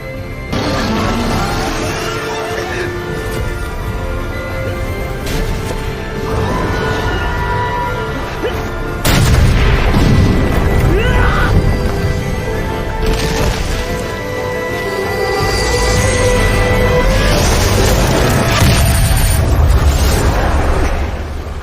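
Fire bullet spell blasts in an animated fantasy battle, a dense, loud, sustained rumble of booms and crashes with a heavier burst partway through, layered over a musical score and faint voices.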